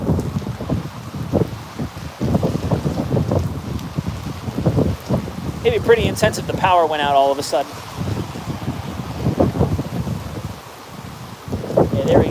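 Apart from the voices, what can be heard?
strong wind gusts during a tropical storm in Tampa Bay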